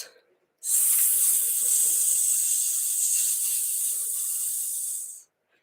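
A voice makes a long, steady hissing sound imitating sizzling sausages, starting abruptly and holding for about four and a half seconds before cutting off.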